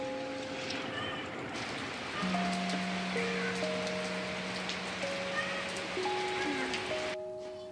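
Steady rain falls outdoors with a dense, even hiss of drops across the whole stretch, while faint sustained tones sit quietly beneath it.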